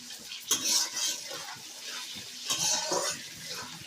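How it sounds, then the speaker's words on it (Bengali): Spice paste with packet chili powder frying in a pan for mango pickle, a steady sizzling hiss with two louder bursts of stirring and scraping, close by and without talk. "তো আমি মশলাটাকে ভালো করে কষিয়ে নেব।"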